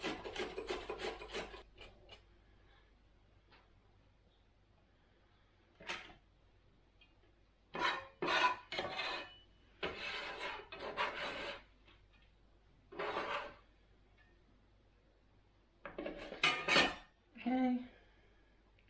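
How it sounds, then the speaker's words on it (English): A regular onion sliced thin on a mandoline in a home kitchen, a series of sharp raspy scraping strokes in quick bursts separated by quiet pauses, close and crisp. "we'll start with a regular onion. And I have my mandolin here. I'm just gonna slice it very thin."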